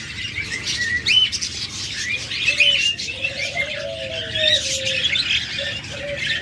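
A pair of double-flower Japanese pet birds calling, with repeated squawks and chirps close by over a steady background of other birds' chatter.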